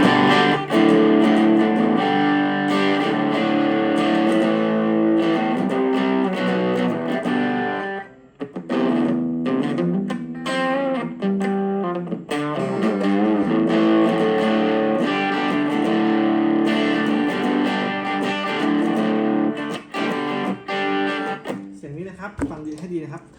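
Distorted electric guitar through a tube amp model on a Line 6 POD 2.0, playing chords and riffs, thick and saturated, loud and continuous with a brief pause midway.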